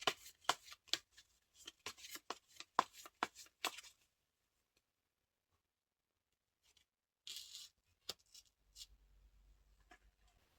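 Tarot cards being shuffled in short, crisp riffling bursts, close and quiet, followed by a long silent pause and then a few more brisk card flicks and soft taps.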